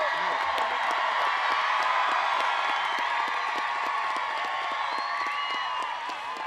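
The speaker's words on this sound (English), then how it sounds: "Everyone please stand to give these graduates a round of applause for the class of" Large crowd at a high school graduation ceremony cheering, whooping and applauding continuously, a dense roar of clapping and shouts filling the space at steady volume.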